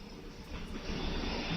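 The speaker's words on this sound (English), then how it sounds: "Another Matrix plane coming over my head." An airplane passes overhead at dusk on a cloudy evening over a street, a steady broadband engine roar that slowly swells louder across the short stretch, with no talking.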